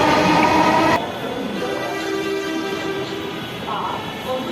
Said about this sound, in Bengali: ট্রেন মতিঝিলের দিকে চলে যাচ্ছে